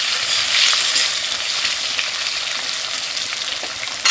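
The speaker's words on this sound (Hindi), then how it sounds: "हम उसमें अभी ये हमारे जो आलू हैं इसको डाल देते हैं, कटे हुए आलू को मिक्स कर देते हैं।" Cut potatoes frying in hot oil over a high flame, a loud, continuous close sizzle with faint stirring, no voices.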